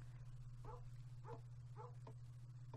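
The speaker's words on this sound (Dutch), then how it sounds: "Oké, maar mijn hond die blaft naar links." A dog in the video game Kingdom Two Crowns gives four short, faint barks at an uneven pace over a steady low hum.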